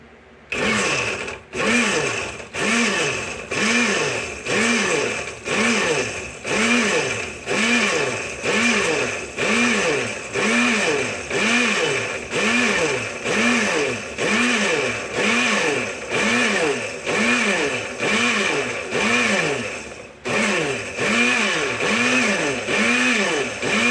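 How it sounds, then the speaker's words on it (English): A blender purees a cooked homemade Tabasco sauce mixture in repeated pulses, each a loud whirring burst with a rising and falling motor pitch, about one per second, close up and continuous. "Now it's time to take it and put it in the blender."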